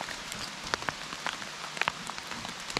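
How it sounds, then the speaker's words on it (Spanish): Heavy storm rain with big drops falling outdoors in the hills, a steady close hiss of rainfall broken by sharp, irregular splats of large drops striking nearby surfaces, with no talk. "Otra vez lluvia, macho."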